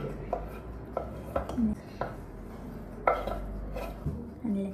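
Chili sauce, soy sauce and garlic stirred together in a bowl for BBQ prep, with a series of close clinks and scrapes of a utensil against the bowl at irregular intervals over a low background hum.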